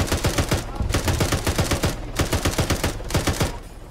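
Rapid automatic gunfire in the military shooter game Arma 3 sounds in loud, close bursts of sharp repeated shots with brief pauses between them.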